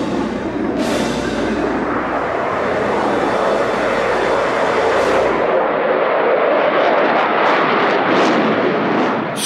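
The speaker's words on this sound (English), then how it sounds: "before he comes by in a high alpha, slow speed fly past" An F-18 Hornet jet makes a slow, high-angle-of-attack flyby, its loud broadband engine roar filling the clip. The roar rises and shifts as the aircraft passes close by, with no voices over it.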